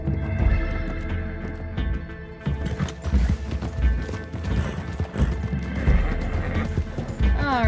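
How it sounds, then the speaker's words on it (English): A horse in the Western game Red Dead Redemption 2 lets out a loud whinny, then its hooves clip-clop and thud in uneven bursts, close by, with a game voice mixed in. "Come here, horsey."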